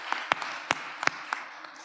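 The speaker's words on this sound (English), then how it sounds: "Do you want to face the rest of the room and give them a round of applause?" At a winter graduates' recognition ceremony, applause for the support teams fades out, leaving a handful of scattered, crisp claps close by over a quiet room.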